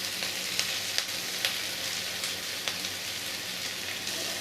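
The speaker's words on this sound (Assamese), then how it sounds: "এনেকৈ আলু আৰু কবিখিনি ভাজি ল'ব লাগে" Chopped potato and kohlrabi fry in a pan with a soft, even sizzle and occasional light clicks of stirring, heard alone at a fairly low level throughout.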